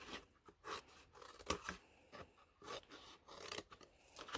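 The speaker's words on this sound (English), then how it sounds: "I suggest when you cut it, you trim this portion, just so it's easier for you to fold." Scissors snip and trim a cardboard box for a juice box vending machine craft, giving a steady run of close, rasping cuts and crunches with short pauses between strokes, no voices.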